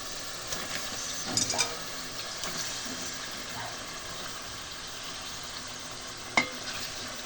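Chicken pieces are stir-fried in spice paste, a quiet continuous sizzle with occasional spatula scrapes and one sharp knock near the end, heard close with no voices.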